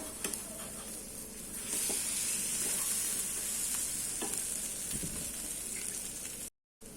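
A Ceylon-style egg dosa sizzles loudly on a hot pan after being flipped, a close, steady frying hiss that swells when it turns over and holds until a brief silence near the end.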